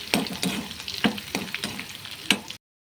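Green chilies, curry leaves and mustard seeds fry in oil, a busy crackling sizzle with sharp pops and stirring scrapes close by, cutting off abruptly near the end.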